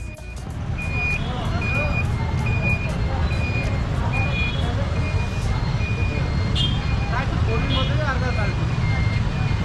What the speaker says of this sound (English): Check out this traffic jam.